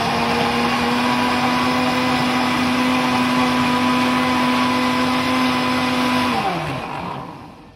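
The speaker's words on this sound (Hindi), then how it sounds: "ये आम और दूध शामिल करके तकरीबन 1 मिनट, ज़्यादा से ज़्यादा 1 मिनट मशीन चलानी है जी।" A kitchen blender blends mango and milk for homemade mango ice cream, a loud steady whirring motor drone that runs continuously before winding down at the end.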